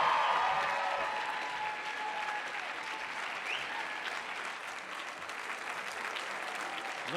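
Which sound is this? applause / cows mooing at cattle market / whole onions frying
applause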